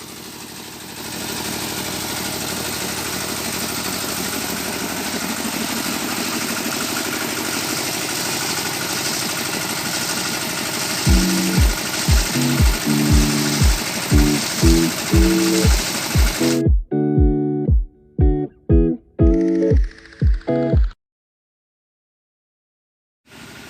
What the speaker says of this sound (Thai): ตอนนี้ก็มาดูขอเจาะน้ำบาดาลนนะครับ